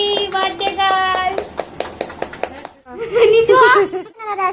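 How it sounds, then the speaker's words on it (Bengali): At a little girl's birthday celebration, people clap in a burst of quick hand claps close by, mixed with children's voices, chatter and light laughter. "হাততালি দাও সবাই, সবাই হাততালি।"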